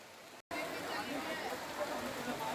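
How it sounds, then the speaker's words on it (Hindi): Heavy rain during a pilgrimage walk in the Braj region of India, a dense, continuous hiss of downpour after a brief dropout, steady and close throughout. "ऐसी बारिश हमने नहीं देखी 2 घंटे हो गए"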